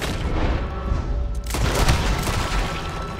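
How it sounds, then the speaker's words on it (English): Gunshots in Red Dead Redemption 2 ring out as a loud, dense volley of booming shots with a sharp blast midway, reverberating over a constant noisy game backdrop, with no talk. "I was trying to shoot him in his legs"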